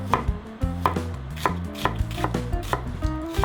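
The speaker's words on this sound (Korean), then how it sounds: "먼저 마늘을 편 썰어주세요." Garlic cloves sliced with a knife on a cutting board, about eight crisp chops at a steady rhythm, close and clear, with background music and no talking.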